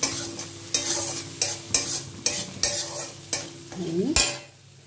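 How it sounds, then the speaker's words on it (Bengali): Koi fish with turmeric and a little red chili powder being stir-fried in a pan, a spatula scraping in regular strokes roughly every half second over a steady sizzle, close and fairly loud. "আমি এর মধ্যে হলুদ দেব, হলুদ আর সামান্য একটু রেড চিলি পাউডার দেবো"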